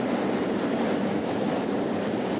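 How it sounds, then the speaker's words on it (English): A train rolls past close by, a steady loud broadband rumble and roar filling the whole stretch without letup, no speech over it. "Let me wait for this train to pass."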